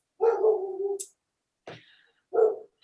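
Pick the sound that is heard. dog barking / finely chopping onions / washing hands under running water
dog barking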